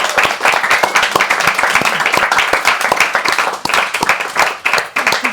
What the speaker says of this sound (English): So can we give you a round of applause before we go on to questions?